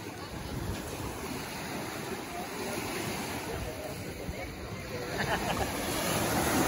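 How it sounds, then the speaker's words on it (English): Ocean waves wash onto the beach on Catalina Island with a continuous rushing surf that swells louder near the end, and people talk faintly in the background. "The waves are too strong"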